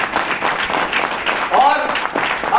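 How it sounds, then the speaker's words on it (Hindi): A meeting audience claps loudly while a voice talks over the applause close by, the clapping steady and busy throughout. "इनके लिए भी जोरदार तालियां होनी चाहिए।"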